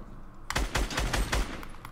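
Rapid bursts of automatic gunfire in a Fortnite duos match, several loud volleys in close succession after a quiet half-second start, with no talk.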